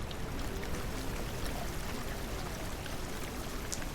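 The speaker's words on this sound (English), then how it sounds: "Now this is gonna start draining rapidly." In the DrainSim video game, water drains out of a flooded construction site as a steady, dense rush of pouring flow. It stays even and fairly loud throughout, with no voices.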